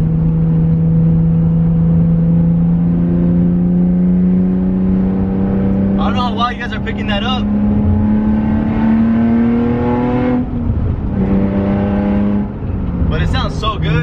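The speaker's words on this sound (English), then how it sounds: "I finally have some sound on the 350Z" A Nissan 350Z on the street, its engine rising steadily in a long climbing rev and then dropping, with another surge near the end, loud and close, while someone talks over it.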